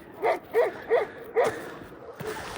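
A dog barks four times in quick succession, moderately close, with a few quieter sounds trailing after while outdoors near wolf territory.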